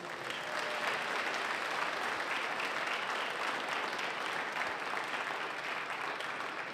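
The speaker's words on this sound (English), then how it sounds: "So a big round of applause for our four athletes" Crowd applause honouring four adult softball athletes, a dense, even wash of clapping from a sizable gathering that holds steady at moderate loudness without a break.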